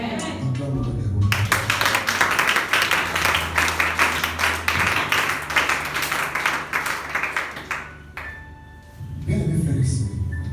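Church congregation clapping in rapid, dense applause with cheering voices, fading out near the end before talking starts again.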